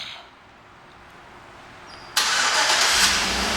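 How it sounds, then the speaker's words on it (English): A 2011 Chevrolet Tahoe LT starts by remote start after a quiet wait: a sudden loud crank catches into a steady, close engine idle that carries on to the end. "and the car starts right up"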